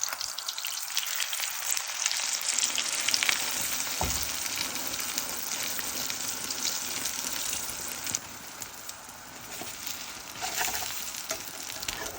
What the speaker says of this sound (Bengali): সরিষার তেল দিয়ে ডিমটা ভাজবো